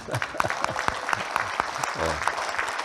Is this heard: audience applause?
yes